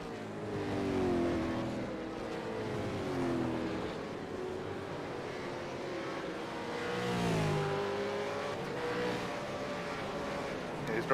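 A Super2 Series race car in an E-Series round works through its final lap, the engine rising and falling in pitch through gear changes and corner exits, steady and moderately loud.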